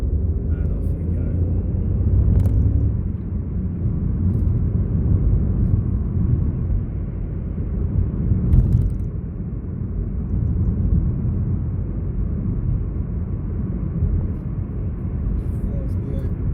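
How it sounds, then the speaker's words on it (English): A car engine accelerates through gear changes. A close, steady low drone rises and dips as the shifts come and go. "do the gear change, pop on the gas, and off we go"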